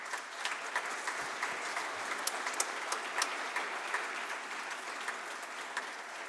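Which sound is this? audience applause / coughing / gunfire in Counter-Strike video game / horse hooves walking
audience applause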